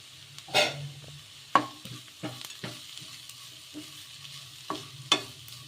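A spoon stirs a tempering of turmeric and curry leaves in a sizzling pan, with a few distinct scraping strokes over a low frying hiss.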